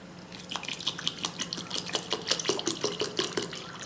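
Cold water poured into a mango buttermilk drink (sambaram) in a home kitchen, a steady close liquid splash and trickle with small dripping flutters, alone without talk.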